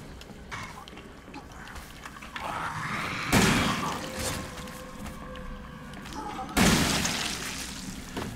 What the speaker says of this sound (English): Shotgun makes a pretty nice mess out of them.